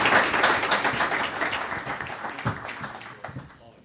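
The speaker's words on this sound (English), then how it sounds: "Give them a round of applause." Audience applause for a panel at a roundtable discussion on smart growth housing in Massachusetts: dense, steady clapping from a room full of people that gradually thins and fades toward the end, with no voices over it.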